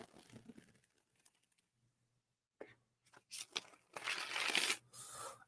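A tarot deck is riffle shuffled in short crisp bursts of rapid card flutter, close and fairly loud, separated by quiet pauses.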